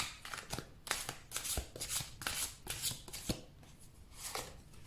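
Tarot cards are shuffled by hand up close: a quiet series of about eight quick papery riffling bursts in an uneven rhythm, each trailing off into soft flicks, with no voices.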